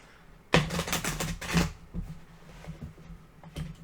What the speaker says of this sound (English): Let's do a hard shuffle.